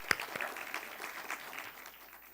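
Audience applause at a World Intellectual Property Day 2023 celebration, a short, moderately loud spell of clapping that fades gradually toward the end.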